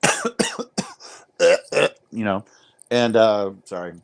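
A person coughs a few times in a short burst during a podcast-style conversation, close to the microphone, with speech around the coughs.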